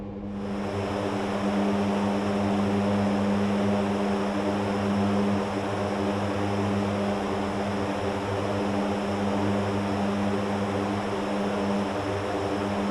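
A C-130J four-engine propeller transport aircraft cruises in flight in the DCS World simulator, a steady, loud droning propeller and engine hum with a constant tonal whine, unbroken and without speech.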